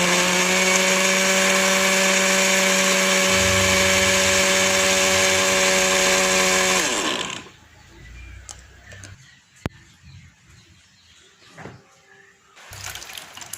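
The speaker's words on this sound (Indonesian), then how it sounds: "Setelah itu, blender ubinya ini sampai halus." A blender purees steamed yellow sweet potato with 400 ml of water, its motor whining loud and steady for about seven seconds before spinning down and stopping, followed by quiet clinks and handling noises.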